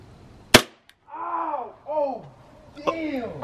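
BB gun shots during a spin-the-wheel challenge: two sharp, loud cracks, one near the start and another near the end, with excited voices talking and exclaiming in between.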